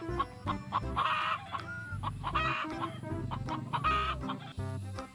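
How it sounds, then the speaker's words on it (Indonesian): Hens cluck repeatedly in short, rising bursts, close by, with farmyard background noise and no talking. "Wow, ternyata ini ada ayam betina."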